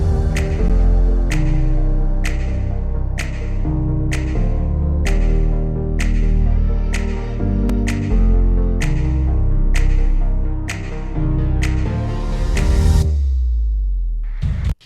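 Electronic song section with sustained chords and steady sharp snaps on the beat as a cutoff filter automation opens into the transition, loud and without voices, ending in a brief swell before cutting off.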